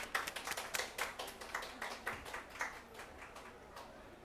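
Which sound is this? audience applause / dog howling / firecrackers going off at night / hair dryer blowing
audience applause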